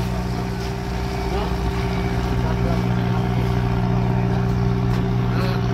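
Large passenger ship Pascrap OG 688 departing in Bohol, its engines giving a steady, loud low drone with tonal hum throughout, with crowd noise and voices in the background.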